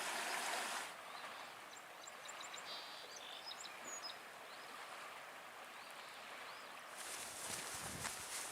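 Gentle stream flowing steadily along the Manistee River Trail in Michigan, a soft continuous wash with faint birdsong and a brief louder rush at the start and end.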